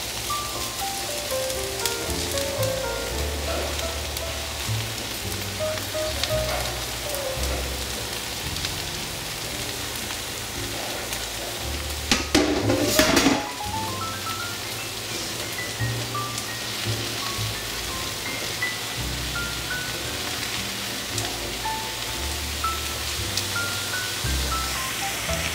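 Salted mushrooms fry and begin to stew in a pan, giving a steady, close hiss and crackle of sizzling that runs through the whole stretch, with one louder burst about midway.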